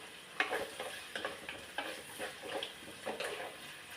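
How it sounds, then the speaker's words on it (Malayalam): Onions, ginger and garlic sauté in a pan for a fish curry, a soft sizzle broken by several stirring scrapes, quiet and close, with no speech. "ഒന്ന് വഴന്നട്ടെ അത് ശർക്കര സവോള വഴന്ന് കഴിയുമ്പോൾ ഇച്ചിരി ഇഞ്ചി വെളുത്തുള്ളി അതും കൂടെ അതിൻ്റെ കൂടെ കിടന്ന് നല്ലപോലെ വഴങ്ങണം"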